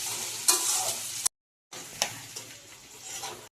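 Onions fry and sizzle in a pan while a spoon stirs and scrapes through them, close and steady, broken by a brief silent gap.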